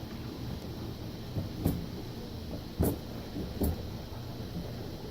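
A kitchen drawer is pulled open and a knife is taken out, producing a few short wooden clunks and metallic rattles spaced about a second apart over a quiet room background.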